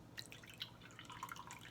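Milk poured into a measuring cup on a kitchen counter while baking banana bread, spilling with faint splashing drips and light liquid trickles, quiet and close.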